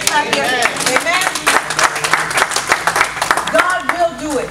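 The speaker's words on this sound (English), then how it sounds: "Say amen and clap your hands." Church congregation clapping hands in sharp, irregular bursts, mixed with voices talking and calling out over the claps.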